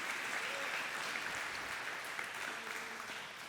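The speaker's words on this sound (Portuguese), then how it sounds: "Você pode dar uma linda salva de palmas a Jesus" A church congregation applauding during a Portuguese-language sermon, a steady, dense wash of clapping that holds at an even level throughout.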